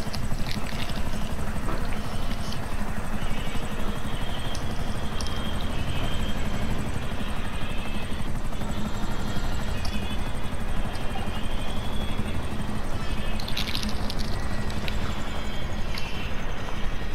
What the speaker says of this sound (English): This damn chopper is going down.